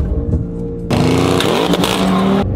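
A loud 700 hp Audi RS6 engine with a new exhaust suddenly roars up and revs hard for about a second and a half, with a deep throaty exhaust, then cuts back to idle.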